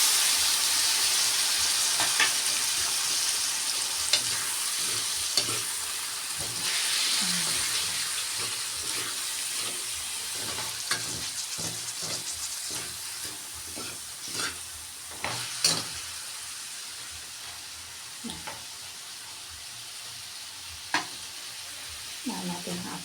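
Eggplant frying in a hot pan while being stirred, a steady sizzle with repeated scraping and clinking of the utensil against the pan, close and continuous, no talking.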